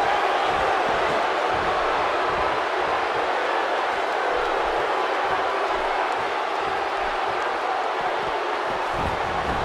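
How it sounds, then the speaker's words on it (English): A capacity arena crowd roars continuously in the WWE 2K18 wrestling video game during a Sheamus versus Roman Reigns match, a dense, steady wash of crowd noise throughout. "Sheamus looking to get this capacity crowd behind him."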